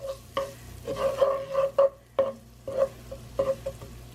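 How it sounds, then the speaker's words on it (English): Garlic cooking in butter in a pan for spaghetti sauce, with a soft sizzle beneath repeated stirring scrapes of a utensil against the pan in short uneven bursts, no talking. "now 1 tablespoon of garlic, and I'm going to just, you know, cook this in here a little bit"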